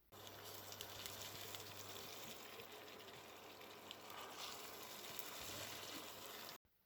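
About 100 grams of fried onions sizzle in a pan over a high flame as they are stirred into a spicy mutton gravy: a steady, close, crackling hiss that runs unbroken and then cuts off abruptly at the end, with no talking.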